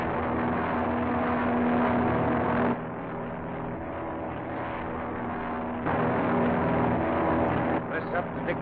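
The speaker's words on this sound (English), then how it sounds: "Isn't that the robot plane?" A steady engine drone of a robot plane flying overhead fills the scene, continuous and fairly loud, with voices talking over it.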